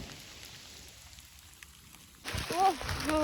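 Rain falls steadily in the dark along the trek from Pokhara toward Ghorepani, a soft continuous patter at first, then louder and busier in the final second as a voice speaks over it.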